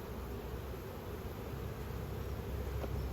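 Honey bees in an open hive during an inspection make a low, steady droning buzz with faint rustling, fairly quiet and unbroken throughout, with no talk.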